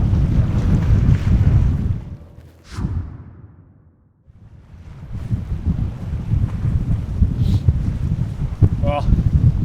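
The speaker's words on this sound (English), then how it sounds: "It's crazy windy." Strong wind roars and buffets the microphone in loud gusts, dropping to a brief lull midway before surging back, with faint higher sounds over it.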